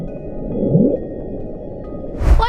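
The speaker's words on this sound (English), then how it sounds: "another strange sound recorded in the ocean," A strange underwater ocean sound recorded in 1997 comes through as a low rumbling drone with a short rising sweep, then a brief louder burst near the end.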